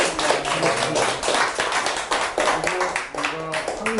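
A seated lecture audience claps for the lecturer, a close, dense burst of hand claps that stays sustained and lively throughout, with some uneven pulses.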